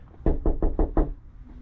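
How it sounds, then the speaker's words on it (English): Five firm knocks on a front door ring out close and evenly spaced, sharp and loud, followed by quiet. "I just knock on the door and see what they think."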